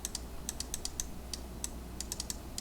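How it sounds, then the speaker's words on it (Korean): Rapid typing on a computer keyboard, a dense run of crisp key clicks in irregular bursts over a low steady hum, close and fairly quiet. "이렇게 문자를 입력하고 엔터를 빵 치면"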